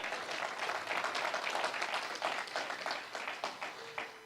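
A church congregation gives a sustained burst of clapping, a dense, even patter of many hands at moderate distance that holds steady before thinning toward the end.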